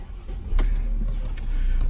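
A 2014 Mercedes CLS 350 CDI Shooting Brake diesel engine cranks and starts, a brief starter whirr giving way to a steady low idle rumble that swells slightly louder toward the end, close by with no talking.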